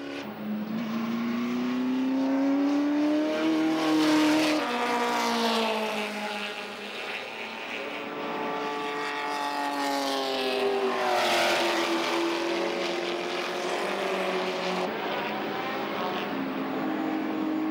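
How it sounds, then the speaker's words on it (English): Ford GT40-era sports racing cars roar past on a circuit, a continuous loud engine drone whose pitch rises and falls as cars accelerate and pass, with no talk over it. "Australian Bib Stillwell still driving hard"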